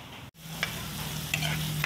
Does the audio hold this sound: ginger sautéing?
yes